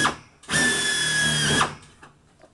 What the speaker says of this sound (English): Now this one that I just drilled